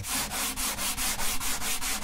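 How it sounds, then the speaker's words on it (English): Sandpaper rubs steadily across wood in quick, even back-and-forth strokes, a close, continuous scratchy rasp with a regular rhythm and no talking. "I'm listening to the sound of the sandpaper, which can change a little bit as I remove the wood"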